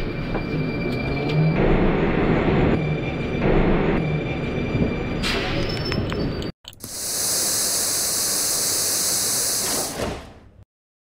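A Rusich metro train on the Filyovskaya line in the video game Metro 2D rumbles and whines along the tracks, then a hiss and a door-closing clatter, followed by a steady rushing roar of motion.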